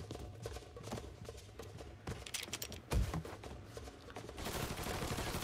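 Gunfire crackles through a firefight in the video game Mafia 3: scattered shots, one heavier bang near the middle, then a dense, sustained rattle of fire at the end.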